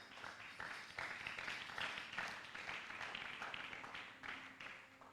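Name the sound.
congregation applauding in church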